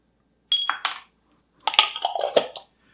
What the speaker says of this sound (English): So I'm going to take 2 of these guys and just drop them right into my glass.